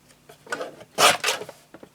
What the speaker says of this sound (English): My trimmer, and we're just going to trim these down.